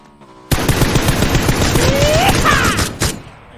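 Rapid automatic gunfire in a video game, a loud dense burst of shots close by that starts abruptly and rattles on for about three seconds before tailing off.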